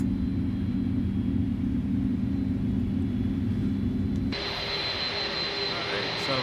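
An Airbus A310-300 cargo jet's engine hums in a steady low rumble that abruptly shifts to a high-pitched whine with a tonal whistle as the start settles.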